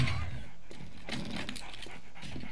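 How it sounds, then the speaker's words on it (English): A dog in the survival game 7 Days to Die pants and whimpers, a close, busy rush of breathy panting with small whines running steadily through the clip. "Oh, dog! Dog!"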